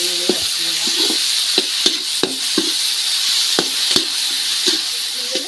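Onions sauté in a pan on steady, crackling sizzle while a utensil scrapes and stirs at an irregular rhythm, close and fairly loud with no talking.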